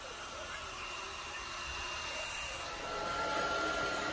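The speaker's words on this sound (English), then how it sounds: "Blow drying my hair." Hair dryer blowing on damp short hair at close range, a steady loud whooshing whir held throughout, swelling slightly toward the end, with no talking.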